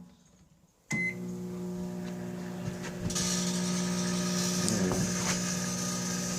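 A microwave oven runs with a toy car inside: a steady loud electric hum with a low drone starts abruptly, then builds with added crackling and buzzing as the metal toy reacts, heard close with no talking.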